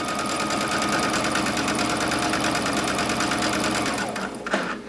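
A Brother Dream Machine sewing machine stitching fabric runs steadily at high speed with a dense, even mechanical whir, close and loud, slowing and stopping near the end.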